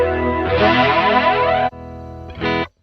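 The clean channel of a budget Joyo amplifier rings out with a full, shimmering chord that sustains and then cuts off. A shorter, brighter strum follows before silence, close and moderately loud.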